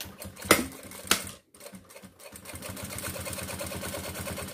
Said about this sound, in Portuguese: Então a gente vem aqui na máquina, tá? E passa essa costura.